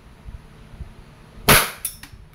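A Wingun 708 airsoft revolver loaded with steel BBs fires once in single action, a sharp, close crack followed by a quick rattling echo, with faint handling taps just before.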